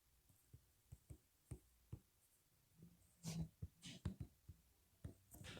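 Math notes written by hand on paper, with soft scratchy pen strokes and taps in irregular short bursts. They are quiet and close, and grow a little busier toward the end.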